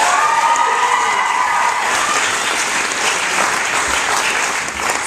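Steady applause from an audience at a school awards ceremony fills the room, dense continuous clapping with a faint voice underneath, holding level throughout.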